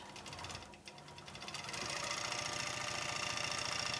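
A computerized Statler quilting machine stitching a star quilt, a fast steady mechanical chatter of rapid needle strokes that speeds up partway through and then runs at an even, quicker pace.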